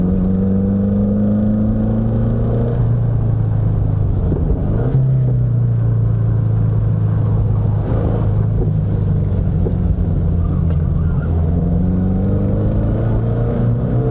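A 1970 Opel GT drives through canyon roads, its engine a loud, continuous close drone whose pitch rises and falls with each gear and throttle change, with no talk.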